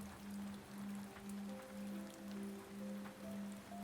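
Gentle rain patters on mossy stone and leaves by a garden wall, a quiet, unbroken hiss with occasional drips, over a low steady drone that rises and falls softly.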